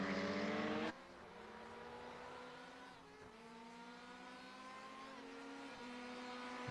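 Racing cars speed down the front stretch of a circuit. A loud burst passes close at the start, then engines drone more faintly in the distance, with rising and falling pitch as they accelerate.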